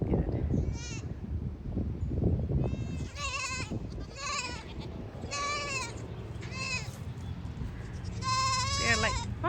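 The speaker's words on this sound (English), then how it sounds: "all these baby goats are making a ruckus, like something bad happened," Baby goats on a farm bleat repeatedly in loud, wavering cries, several overlapping at close range, over a background of low rumbling noise.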